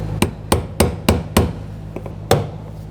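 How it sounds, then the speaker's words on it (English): Metal punch tapping down the fuel pump lock ring on a 2011-2018 Volkswagen Jetta, six sharp, close hammer strikes at an uneven pace, each ringing briefly over a low steady hum. "If not, just use the punch. Tap it down, put a rag over."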